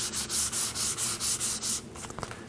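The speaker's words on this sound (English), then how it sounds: "it just takes touching that surface with this super fine grit sandpaper, and you'll get that nice smooth finish" Super fine grit sandpaper rubs across a sprayed clear wood finish in seven steady back-and-forth strokes, close and even, followed by a few soft taps and handling noises.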